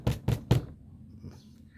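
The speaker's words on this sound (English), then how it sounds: "A soft knock on the door." Three quick, soft knocks on a door in an even rhythm, close by and fairly quiet, then near silence.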